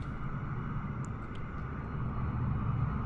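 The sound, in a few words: another airplane's engine in a flight simulator video game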